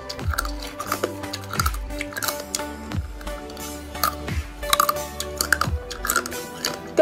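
Crunchy bites and chewing of marinated crab, a string of sharp, close crackles and squishy mouth sounds repeating every second or so over steady background music.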